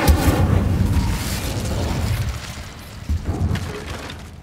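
An Incendio fire spell cast in Hogwarts Legacy bursts out as a loud, booming whoosh of flame with rumbling low crackle, followed by a second burst and a fading roar, with no talk.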